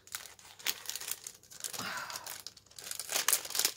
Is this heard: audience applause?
no